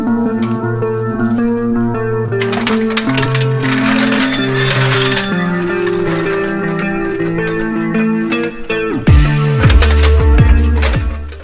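A restored trailer wheel is spun by hand to check its bearings, giving a continuous mechanical whir with ringing tonal hum and rapid rattling clicks that swell louder near the end.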